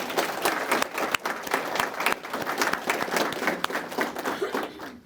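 Sustained audience applause fills a police awards ceremony, dense steady clapping from a large crowd with no voices over it, fading slightly near the end.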